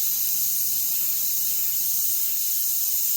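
A spray gun lays chrome yellow paint onto a Mustang, giving a steady, even hiss of atomised air that runs unbroken and close throughout, with no voices.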